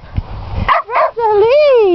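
A dog gives a short yip and then a drawn-out whimpering howl that bends up and down in pitch, loud and close, after brief low rumbling at the start.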